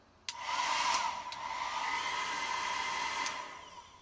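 A handheld hair dryer clicks on and blows with a steady, fairly loud whooshing roar for about three seconds before easing off, with no voices over it.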